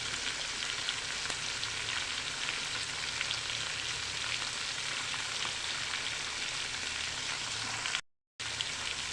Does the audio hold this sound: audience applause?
no